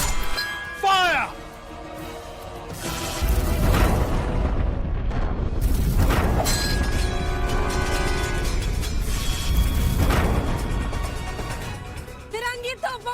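Heavy cannon fire in a period battle drama, a series of deep booming blasts and rumbling explosions rolling one after another, with shouted voices and music-like tones briefly at the start and end.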